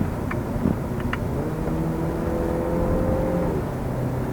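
A 2013 Volkswagen Golf 7 driving fast on a narrow road, heard from inside as a steady engine drone with a rising tone and a few light clicks over road rumble.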